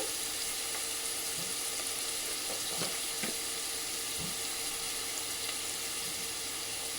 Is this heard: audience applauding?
no